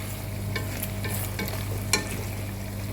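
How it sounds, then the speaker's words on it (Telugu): Chicken pieces fry in a pan, sizzling steadily while being stirred, with a few sharp scraping stirs standing out close up. "చికెన్ ముక్కలు బాగా వేగాలండి"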